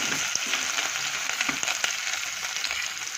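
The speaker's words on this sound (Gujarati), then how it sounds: "હવે અંદર આપણે ગિલોડા શેકી દઈએ।" Ivy gourd (giloda) frying in a pan of hot oil for Gujarati giloda shaak, giving a steady, close sizzle with scattered crackles and pops, heard alone without any talk.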